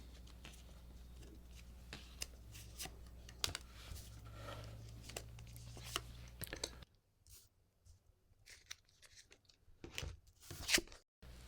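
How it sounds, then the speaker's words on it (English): A deck of philosopher quote cards being shuffled: a run of crisp, papery flicks and riffles over a low steady hum, then sparser, louder card snaps close by in a quieter stretch. "And I will shuffle these cards."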